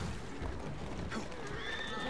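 A horse whinnies in Assassin's Creed Syndicate over a busy, noisy background with faint clip-clop, the neigh rising then trailing off near the end.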